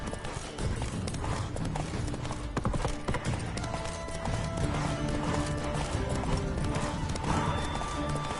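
Hooves clip-clop at a steady gallop in the video game God of War, with a horse neighing and whinnying over a dense, loud game soundtrack throughout.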